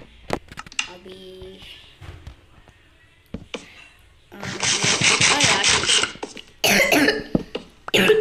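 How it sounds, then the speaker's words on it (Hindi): A few sharp coughs ring out amid Minecraft game sound effects and a stretch of loud broadband noise, fairly close and abrupt. "खांसी हो रही है"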